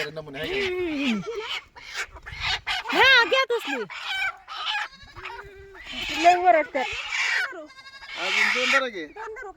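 White and red hens clucking and squawking up close in short bursts, mixed with other animal calls and people talking nearby.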